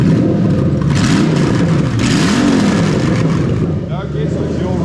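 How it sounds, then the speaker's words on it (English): A Toyota 1UZ-FE V8 fitted in an IS200 revs up loudly, then settles back to a steady idle, close and continuous with talk over it. "so it all revs up nicely. Pops back down to a nice idle"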